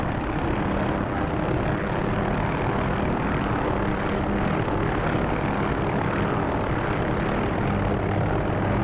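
Helicopter rotor and engine drone continuously and loudly, a dense unbroken roar with a rapid blade chop pulsing through it, close to the listener with no voices.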